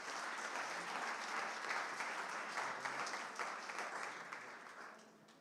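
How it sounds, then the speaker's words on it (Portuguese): A church congregation applauds during a celebration service, a steady wash of many hands clapping at full strength that gradually thins and fades toward the end. "Você pode aplaudir Jesus?"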